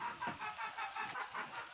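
Soft, repeated chicken clucking from a rooster or hen of a breeding line, several short rhythmic calls at low level with no talking.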